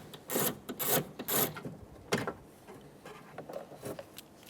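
A 10mm socket wrench working two bolts out of a 2003-2008 Honda Pilot front door during window regulator replacement, heard as close bursts of rapid ratcheting and scraping that fade into quieter fiddling.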